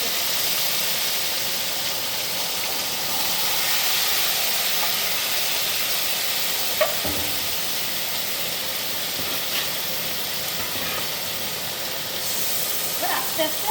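Goat meat hissing and sizzling as it hits hot spiced oil in a home kitchen pot, a steady loud spitting hiss with occasional crackles and clinks of utensils, a voice faintly speaking in places.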